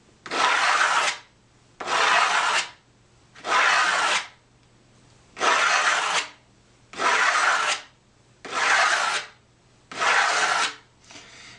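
Edges and corners of a metal cuff bracelet blank sanded by hand with long even strokes, eight rhythmic rasping passes with short pauses between them, close and clear with no talking.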